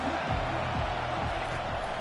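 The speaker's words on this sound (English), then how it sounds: "This crowd trying to make life miserable for this offense." A college football stadium crowd roars steadily throughout, a dense continuous wash of cheering and noise from a large audience, with a commentator's voice faintly beneath.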